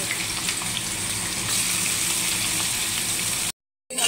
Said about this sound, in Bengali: আমার তেলটা গরম করা হয়ে গেছে, তেলে আমি এগুলোকে সুন্দর করে ছেড়ে দেবো।